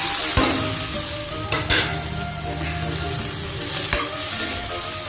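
Potatoes hit roasted masala in an iron wok and set off a steady sizzle, with a few sharp scraping clacks of stirring spaced through the frying.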